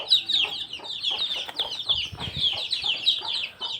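A native desi hen clucks close by amid a dense stream of high, rapid chick peeps, with some rustling and wing movement, and no talking.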